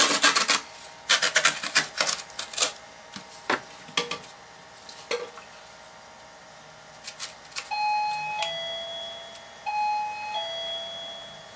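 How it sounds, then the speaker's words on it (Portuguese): Doorbell chimes at a studio door, pressed by accident, ringing two-tone ding-dong tones twice near the end after scattered scraping and rubbing sounds of cardboard being handled and cut. "Não tá dando certo eu com essa campainha aqui, não. Eu aperto sem querer e acho que é o povo."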